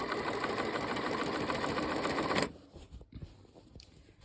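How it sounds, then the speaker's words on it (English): A sewing machine runs a fast, steady stitch along a zippered cushion back at long stitch length, humming loudly for a couple of seconds before stopping abruptly, leaving faint handling clicks. "And keep stitching until I reach the other end"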